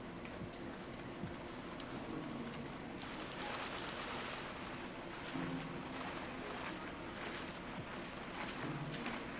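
Steady rain falling in the video game Pikmin 3 Deluxe, a continuous hissing wash that holds evenly throughout, with faint low rumbles beneath and no talk.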